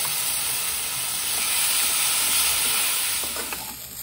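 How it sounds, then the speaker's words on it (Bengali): Potato and onion frying with spices in a pan, giving a steady, fairly loud hiss and sizzle throughout, with a few faint clicks near the end and no voices. "এখন এটা ভাজা হয়ে গেছে, আমি এতে মশলা অ্যাড করে দেবো।"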